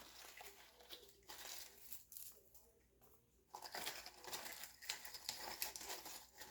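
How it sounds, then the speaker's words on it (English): A packaged gardening journal is pulled out of its box, giving steady crinkling and rustling of packaging with a brief quieter pause midway, then louder handling again. "Let me just try to take it out of the box so we can look inside and see."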